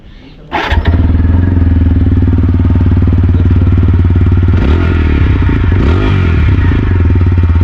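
A TVS Apache RTR 4V motorcycle starts up, then its exhaust settles into a loud, steady idle in neutral, close by with a continuous throbbing rumble and some mechanical clatter, and no voices.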